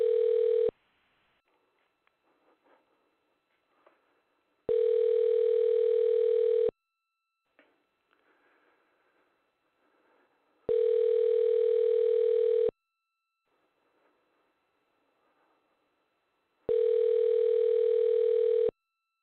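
A telephone line rings during a call on a radio show, four steady, evenly spaced tone bursts of about two seconds each, separated by near-silent gaps with faint clicks.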